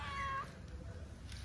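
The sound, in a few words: kittens meowing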